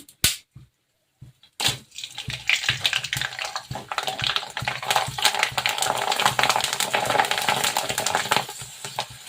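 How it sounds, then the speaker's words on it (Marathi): Sabudana pali papad frying in hot oil gives a dense, steady crackle and sizzle that swells after a few sharp taps and short bursts at the start, close and moderately loud. "आता परत मी तळून बघते"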